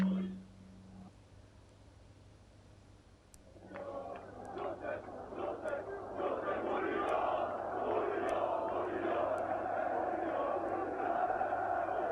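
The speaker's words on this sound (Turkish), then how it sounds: "stadı dolduran binlerce Fenerbahçe taraftarı e, sloganlarla, alkışlarla e, Mourinho'ya sevgi gösterisinde bulunuyor" After a quiet start, thousands of Fenerbahçe fans in a packed stadium break into roaring chants and applause that swell and stay loud and continuous to the end.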